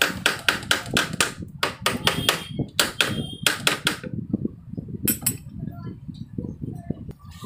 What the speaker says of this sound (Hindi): ऐसे ऐसे थोड़ा सा इसको ऐसे मूव करेंगे और थोड़ा हथौड़े के चोट मारेंगे।